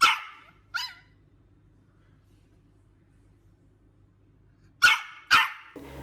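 A small dog barks sharply in short, harsh bursts at a postman, two yaps at the start and two more near the end, with a faint low growl running between them.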